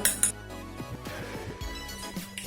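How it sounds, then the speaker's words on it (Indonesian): A fork taps and scrapes against a bowl in quick, light strokes while batter for tempeh katsu is stirred, close and fairly quiet. "Kita aduk pakai garpu aja."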